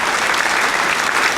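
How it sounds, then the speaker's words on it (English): A round of applause from an audience welcoming a guest onto a yoga-themed talk show, steady dense clapping filling the whole moment without voices. "Let's give a big round of applause to"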